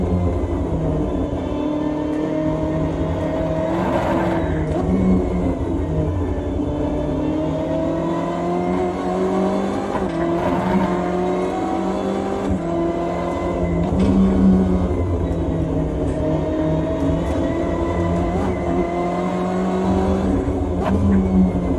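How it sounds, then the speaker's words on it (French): BMW M8 GTE race car engines drone steadily through a long endurance session on the Nordschleife, a continuous rumbling purr with gentle swells that sounds somewhat distant. "le ronronnement des moteurs là."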